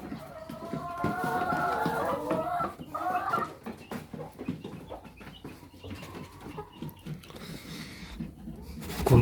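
Hens cluck and murmur in a run of short, close calls, with a few sharper squawks mixed in and a person talking softly in Turkish at times.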